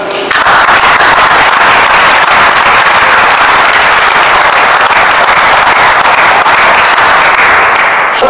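Sustained applause from an audience at the 60th anniversary ceremony of a home-care association in Ruffiac, steady and loud from start to finish.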